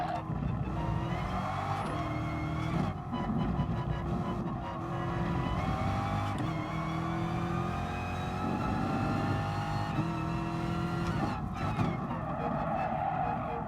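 A Lamborghini race car in GT Sport roars steadily at high revs, its engine note rising and falling through gear changes as it works through a corner, loud and continuous with faint talk beneath.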